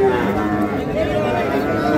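Cattle at a livestock market, Shahiwal and Brahman bulls, give a loud, drawn-out moo close by amid general market bustle.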